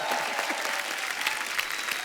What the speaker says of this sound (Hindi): बहुत जोरदार ताली हो जाए